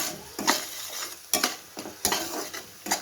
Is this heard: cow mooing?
no